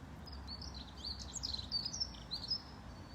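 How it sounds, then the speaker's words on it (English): Birds chirp and tweet outdoors in light, scattered high calls over a steady low hum of distant traffic, with no one speaking. "the birds around us now that you can hear"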